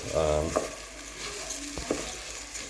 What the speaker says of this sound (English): Added the rice now, so I'm just going to mix it in.